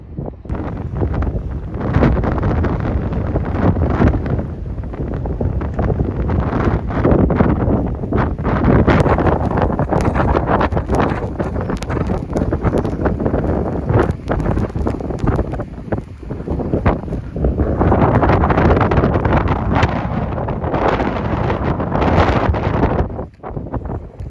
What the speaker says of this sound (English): A foot of snow and 40-mile-an-hour winds gusting to 50.